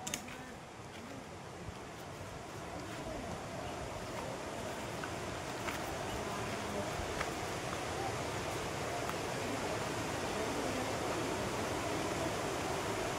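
Steady rushing roar of the Sheetal Nala waterfall on Parasnath Hill, a dense continuous broadband wash of falling water, close and constant for the whole stretch with no voices on top.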